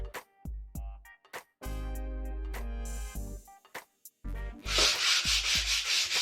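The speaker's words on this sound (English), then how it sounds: "I'm gonna go over it lightly with some 80 grit sandpaper" Light sanding of wood with coarse 80 grit sandpaper for a farmhouse clock project: close, loud bursts of rasping strokes in an uneven rhythm, broken by short pauses, ending in a longer, brighter run of scrubbing.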